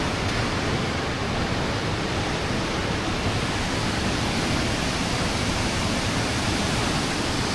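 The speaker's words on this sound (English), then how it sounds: "Such a beautiful waterfall." A waterfall of crystal clear water roars in a broad, unbroken rush, loud and close, with no voices.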